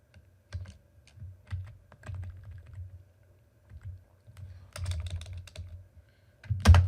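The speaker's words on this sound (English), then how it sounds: "I'm going to hit enter here" Typing on a computer keyboard while writing Terraform configuration, with irregular clusters of close, crisp key clicks, short pauses between bursts and a louder thump at the end that sounds like a heavier key press.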